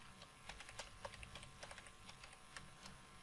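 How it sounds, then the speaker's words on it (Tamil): Someone types on a PC computer keyboard, a quiet, close run of rapid, uneven key clicks with no voices. "இப்போ நான் என்ட்ரு அடிச்சு வணக்கம் நண்பர்களேன்னு டைப் பண்ணுறேன்."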